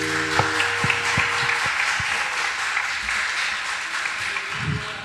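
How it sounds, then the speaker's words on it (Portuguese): Applause ripples through a youth church service, a steady wash of hand claps filling the room with a few scattered taps and low thumps beneath, no clear speech over it. "Palmas para Jesus."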